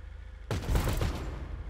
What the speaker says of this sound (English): Shoot the targets up in the sky.